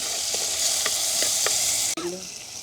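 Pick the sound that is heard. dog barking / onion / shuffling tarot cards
onion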